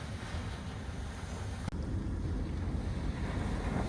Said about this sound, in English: I'm just thoroughly enjoying listening to the waves.